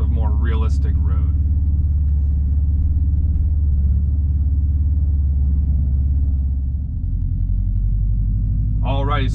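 A 2019 Subaru STI S209 with a manual gearbox rumbles steadily from inside the cabin, and its low engine tone drops and changes late on as it goes from first to second gear. Voices talk briefly at the start and end.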